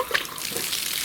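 Pressurised water rushes through the coolant channels of a VAZ 2106 engine, a steady close hissing gush with sputtering bursts, loud and continuous for about a second.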